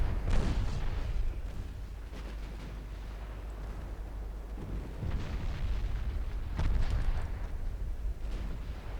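Battleship main guns fire armor-piercing shells in Ultimate Admiral Dreadnoughts, with a China 1948 fleet engaging Japanese battleships: heavy booming blasts and rolling rumble that swell near the start, midway and again later, with no lulls between them.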